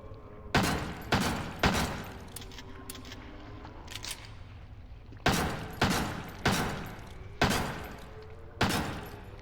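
Bursts of gunfire in the survival horror video game Crow Country: three quick shots, a pause with faint scuffling, then five more evenly spaced sharp reports, loud and close, no talking.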